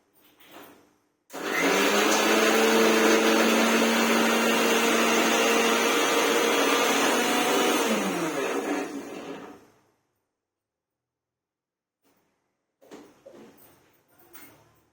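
A loud mixer grinder whirs steadily for about eight seconds, then winds down and stops, leaving near silence and a few faint sounds.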